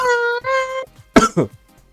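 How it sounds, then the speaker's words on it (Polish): A voice holds a sustained tone twice, then two quick, sharp coughs follow close together near the microphone before it falls quiet. "nie wnikam w ten kaszel"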